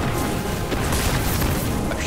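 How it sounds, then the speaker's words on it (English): Shock cannon blasts in Destiny, loud crashing booms buried in a dense, noisy wall of battle sound that stays constant throughout. "A shock cannon."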